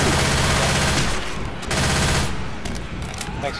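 Rapid, loud bursts of automatic gunfire from the zombie co-op shooter Left 4 Dead 2, sustained almost without a break and thinning slightly toward the end, with faint voices underneath.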